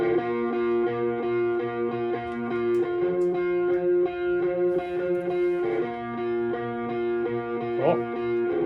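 Distorted electric guitar tracks play in isolation, a steady strummed riff with sustained ringing chords at an even, fairly loud level throughout.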